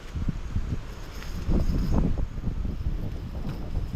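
Strong outdoor wind gusts buffet the microphone in uneven low rumbling bursts, swelling louder in the middle, during a cast-net fishing outing with no talk heard.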